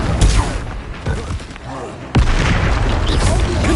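Expulso spell blast in Hogwarts Legacy, a sharp loud boom at about two seconds followed by a sustained rumbling roar, set against busy battle noise.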